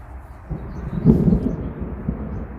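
A low, muffled rumble of thunder swells briefly and fades, heard alone over a dull background hiss.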